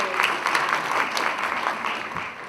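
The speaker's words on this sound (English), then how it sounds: "let's give a big sis another round of applause." Audience clapping at a university launch event, a continuous, even spell of applause with scattered sharp claps, fairly distant and moderately loud.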